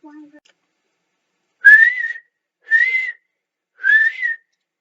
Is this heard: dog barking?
no